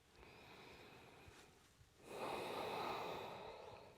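A single deep breath during a yoga pose, a faint soft inhale followed by a longer, fuller exhale, close and quiet in a still room.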